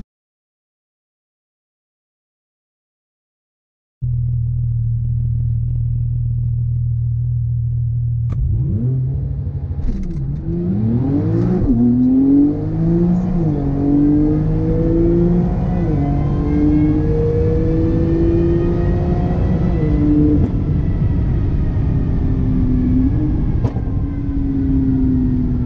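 A McLaren 720S on a drag strip test pass: after several seconds of silence a loud engine note swells, then climbs through rising, sweeping gear pulls that stay strong and close to the end.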